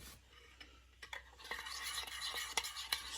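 A spoon stirring a wet harissa marinade for lamb shoulder in a bowl, giving close, squelchy, scraping swirls with a few sharper clinks against the side, steady and continuous with no talking.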